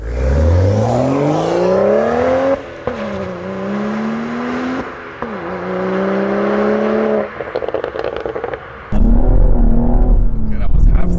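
A turbocharged BMW M135i engine revs up repeatedly at half throttle, rising in pitch with each pull and dropping back between bursts, loud and close, with a turbo-like whir.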